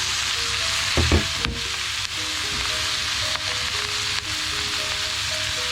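Cabbage fries in a pan with a loud, steady sizzle close up, broken by a few clattering stirs and scrapes of a utensil near the start and light knocks later, with faint background tones and no talking.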